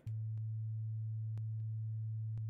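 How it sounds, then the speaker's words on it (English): A pure, steady 110-hertz sine tone hums low and unbroken from an oscillator, loud and alone, with a few faint clicks scattered across it. "So here's the sine wave"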